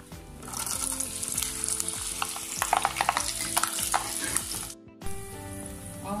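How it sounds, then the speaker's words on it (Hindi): Chillies fry in hot oil for homemade poha chivda, making a steady, close sizzle with crackling pops that briefly drops out near the end before resuming. "मिर्ची भी फ्राई करके लेंगे।"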